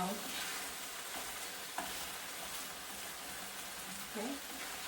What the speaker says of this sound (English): I'm going to mix the tofu with the sauce a little bit